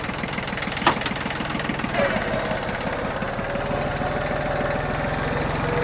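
A Yanmar F16 D farm tractor's diesel engine idles steadily nearby, a fast regular knocking chug that stays even throughout, with a brief sharp click early on.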